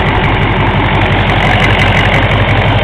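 A 6.5L turbo diesel engine idles steadily with heavily retarded timing and possible blow-by, a loud, close, continuous low rumble with a rapid knocking rhythm and no talk.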